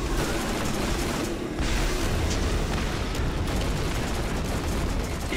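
Grenade blasts in the video game Borderlands form a dense, continuous roar of booming explosions and gunfire, loud and sustained throughout with a brief dip partway.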